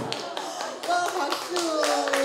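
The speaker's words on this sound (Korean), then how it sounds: "박수." At a Korean book talk, a small audience breaks into brief, scattered clapping while voices and laughter carry over it, close and moderately loud.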